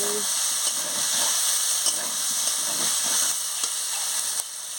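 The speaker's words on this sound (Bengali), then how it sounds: "আলু পটলটা ভেজে রেখেছিলাম দিয়ে দিচ্ছি দিয়ে মশলার সঙ্গে ভালো করে কষিয়ে নিচ্ছি" Fried potato and pointed gourd pieces are sautéed with spices in a pan for a potol-alur jhol, giving a steady, close hiss and sizzle with occasional stirring scrapes.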